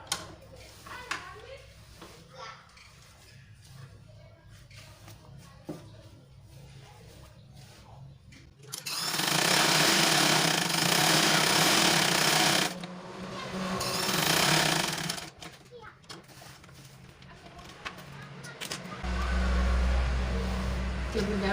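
A sewing machine stitches the front seam of a folded sarong-style skirt in two loud, steady, rattling runs separated by a short pause, with quieter talk before and after.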